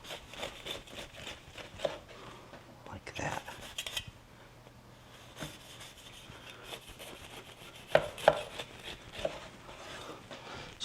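A knife saws through soft, freshly baked butter bread with cheese, giving repeated raspy rubbing strokes in bursts and a few sharp taps on the board, close and fairly quiet, with a voice talking at times.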